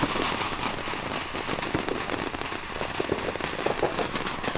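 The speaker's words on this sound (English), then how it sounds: "We are doing fireworks finally." Fourth of July fireworks, including a fountain, crackle and pop in a dense, continuous rattle, with scattered sharper bangs, loud and close.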